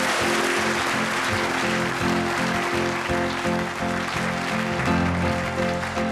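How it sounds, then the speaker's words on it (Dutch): An audience applauds as a singer is introduced at a televised farewell for Sonja Barend, the dense clapping running steadily for the whole stretch beneath loud live band music. "Geef een applaus."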